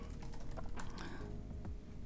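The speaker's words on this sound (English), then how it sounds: "So I'm going to first of all, type my full name here." Typing on a computer keyboard to enter a full name, a quick run of close, crisp key clicks at an uneven rhythm, heard alone without speech.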